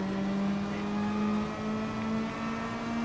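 Race cars in Gran Turismo Sport, including a Lexus and a Porsche, with a sustained engine whine holding a steady high pitch that slowly rises, loud and continuous throughout the short stretch.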